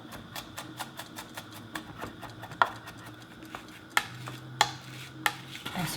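A kitchen knife rapidly mincing six garlic cloves on a cutting board, giving a steady run of close, light taps with a few sharper knocks, while preparing a seasoning sauce for braised black cod with radish.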